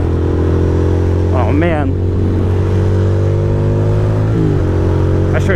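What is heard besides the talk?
motorcycle engine revving while riding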